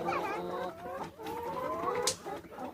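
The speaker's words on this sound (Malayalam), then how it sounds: "അപ്പോൾ ഇതാട്ടോ നമ്മളെ കോഴി." Several laying hens cluck and murmur close by in a steady, overlapping chatter, with one sharper squawk near the end.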